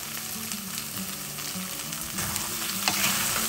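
Chicken sizzles and crackles in a hot pan with ginger-garlic paste, green chilli, capsicum and onion as everything is stirred, the frying loud and continuous with scraping touches from the spoon, no voices.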